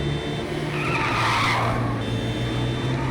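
A car skids with a squealing tire hiss in the racing video game Little Racers: Street, a steady mid-level rush of engine and tire noise that swells briefly in the middle, with no talk.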